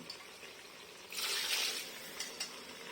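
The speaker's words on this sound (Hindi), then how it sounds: "1 कप पानी डालेंगे" About a cup of water is poured into a pot holding lentils, jaggery and grated raw mango, a short splashing gush followed by a few light clinks of utensils.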